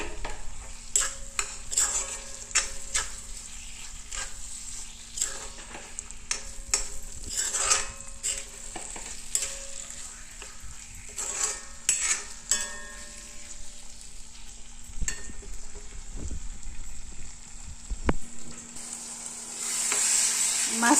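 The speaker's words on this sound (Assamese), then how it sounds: "মাছৰুম ফ্ৰাই কৰি থাকোঁতে" Mushrooms frying in a hot pan, a soft continuous sizzle punctuated by clinks and scrapes of a utensil stirring against the pan, fairly close and quiet with no talking.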